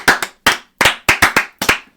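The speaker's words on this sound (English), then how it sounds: "Let's clap it up for their bench." Podcast hosts clap their hands in a loose, uneven rhythm, about ten sharp, close, loud claps, some in quick pairs, with silent gaps between them.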